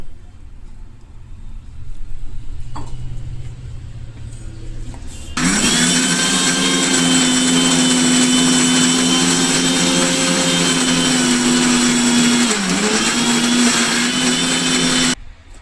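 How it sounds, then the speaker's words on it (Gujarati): A kitchen mixer grinder purées green chili paste and fenugreek leaf batter with a little water for rice cutlets. After a quieter lead-in, a loud, steady motor whine runs for about ten seconds and then cuts off abruptly. "જેથી કરીને બધું એક સરખું પીસાઈ જાય"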